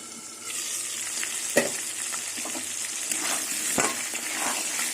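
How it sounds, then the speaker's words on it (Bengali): Potatoes frying over low heat in a covered pan, a steady close sizzle with a couple of sharp clanks of a lid or spatula. "আলুটা লাল লাল করে ভেজে নেবো"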